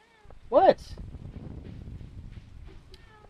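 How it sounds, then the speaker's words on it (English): A cat meows once in the farming video game Stardew Valley, a single clear rising-falling meow over a soft windy background. "Why are you meowing at me?"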